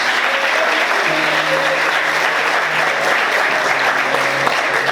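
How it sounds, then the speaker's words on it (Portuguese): A church congregation applauds during a sermon, a loud, dense and continuous roar of clapping from many hands, with faint tones or voices threaded underneath. "Você pode aplaudir Jesus?"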